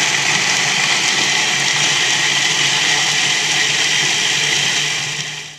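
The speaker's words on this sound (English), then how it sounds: "So we've just blended the ingredients together in the food processor." A food processor whirs continuously at high speed, blending raw food ingredients into a hot raw dish; the loud steady motor grind runs throughout before winding down at the very end.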